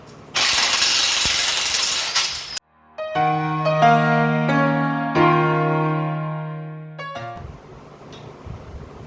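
An air impact wrench removes a 19 mm shock nut on a Honda 300EX ATV: a harsh, loud rattling burst, then a rising tonal whir as the nut spins off, ending with brief clatter, close up and with no talking.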